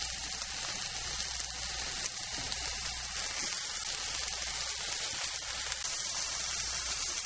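Food fries steadily in a non-stick pan, an even, continuous sizzle close up that holds for several seconds with no voices over it.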